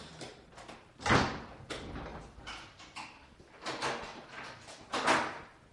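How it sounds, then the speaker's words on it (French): A door is locked shut with a series of muffled clunks, rattles and thuds, moderately quiet and spread over several seconds. "Ils ont bouclé la porte."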